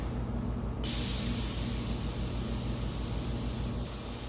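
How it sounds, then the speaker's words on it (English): An airbrush lets out a sudden, loud, steady hiss of air as its trigger is pressed, and the hiss keeps flowing close by after a brief quiet start. "what happens as I depress the trigger and activate the air on the airbrush"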